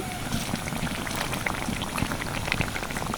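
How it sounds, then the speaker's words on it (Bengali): Tal pitha, palm-fruit fritters, bubble and crackle in hot oil with a dense, rain-like fizz of small pops that holds steady throughout, fairly close. "আমি এটাকে ভেজে নিচ্ছি আর তেলটা ছিটিয়ে দিতে খুব সুন্দরভাবে ফুলে উঠছে"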